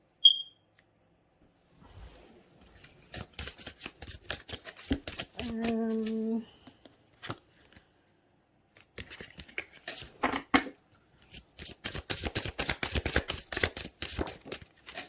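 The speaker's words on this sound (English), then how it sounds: "every time I shuffle this deck in this pile, so far, they're all wanting to fall on the floor." A deck of tarot cards is shuffled close up in bursts of rapid, crisp riffling and flicking, with pauses between and a brief tonal sound partway through.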